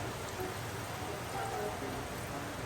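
A splash of soy sauce hits a hot cooking pan and sizzles in a steady, hissing crackle, with voices talking over it.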